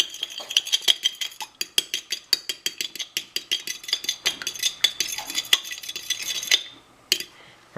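A cracked egg is stirred on a plate for an egg wash, giving a quick run of rhythmic clinks and scrapes of a utensil against the plate, close and fairly loud, stopping near the end with no talking.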